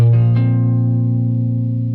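A single sustained electric guitar note colored by effects, ringing steadily and evenly for about two seconds with no other sounds.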